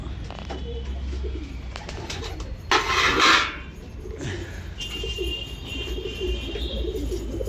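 Pigeons coo softly among background rustle before bathing in a water tray, with a short burst of splashing or hissing noise midway and faint low calls continuing after.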